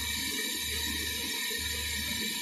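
Hot water flowing through a counter-flow heat exchanger in a heat and mass transfer lab, a steady, broad rushing hiss like running tap water, continuous and fairly close, with a low hum underneath and no talk.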